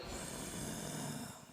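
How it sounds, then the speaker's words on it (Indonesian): A person snores loudly and steadily during a religious gathering, a rough, continuous breathy rasp filling the short stretch without any talk. "Ngorok maning."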